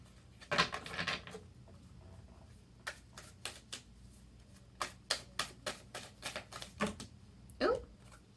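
Spirit animal oracle cards are pulled and shuffled by hand, a burst of riffling near the start followed by a run of crisp, quick card snaps and taps, close and quiet, with no talk.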